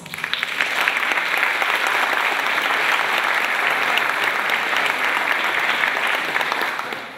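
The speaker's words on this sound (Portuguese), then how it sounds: "gostaria que vocês a recebessem com palmas" Sustained applause from an audience at a university evening event, steady and dense for about seven seconds, welcoming Dr. Márcia Cristina Sampaio Mendes to the stage before tapering slightly at the end.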